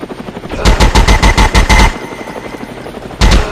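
Rapid machine-gun fire from the Commando video game rattles in a fast, loud burst of evenly spaced shots, pauses briefly, then starts again near the end.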